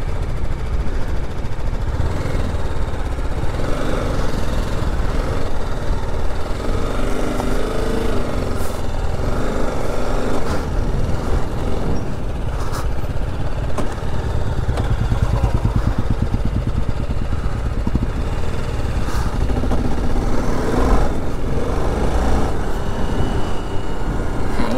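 BMW motorcycle engine running steadily throughout, a continuous loud mid-range drone with mild fluctuations and occasional knocks, no voices over it.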